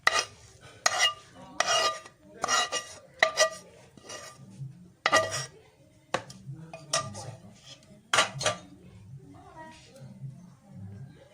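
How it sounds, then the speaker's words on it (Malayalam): Boiled, ground chickpeas are mixed with sautéed onion in a bowl, with a spoon scraping and clinking against the metal in irregular bursts while a voice talks in between. "ചേർത്തിട്ട് നന്നായിട്ട് മിക്സ് ചെയ്യാം"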